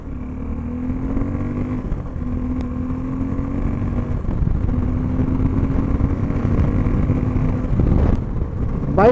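A Suzuki V-Strom 250 motorcycle engine runs steadily at close range, its low rumble holding a constant pitch with slight shifts, building a little louder toward the end.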